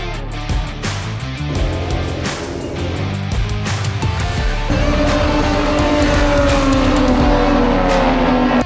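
Race cars roar past at a free motorsport event, loud engines rising and falling in pitch as they drive by, with a sustained whine building toward the end.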